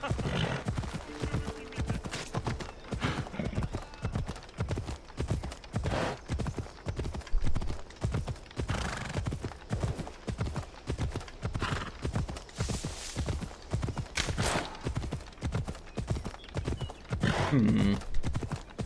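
A horse gallops in Assassin's Creed Odyssey with steady, rhythmic hoofbeats throughout, close and continuous, with occasional snorts and game sounds layered over the run.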